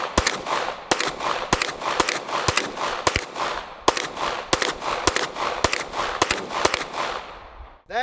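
Fifteen rounds of 9mm full metal jacket fired from a SIG P211 GTO pistol at a helicopter blade target, a steady series of sharp, loud shots spaced roughly half a second apart with no talking.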